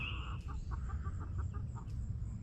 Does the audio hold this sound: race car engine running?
no